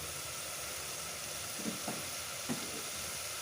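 Steady sizzling of vegetable curry frying in a pan with tomato, a constant broadband hiss with a few soft clinks of stirring near the end.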